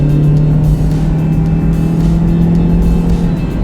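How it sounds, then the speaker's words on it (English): A 2012 Honda CR-Z with CVT driving on the road in Sarawak, Malaysia, its engine droning in a steady low hum with a loud, continuous exhaust note heard from inside the car, no talking. "And I've got to say, this engine, this exhaust note"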